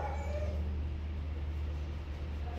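A small four-year-old male dog at an animal care shelter in San Antonio, Texas, whimpers and yips faintly over a steady low hum of kennel noise.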